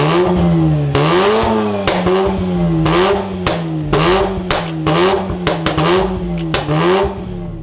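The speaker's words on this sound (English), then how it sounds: "giving you the full rotary soundtrack more often" A Mazda RX-8 rotary engine revs up repeatedly in about eight sharp, loud blips, its high buzzing rotary note rising and falling close by.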